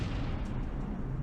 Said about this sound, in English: press left trigger to detonate it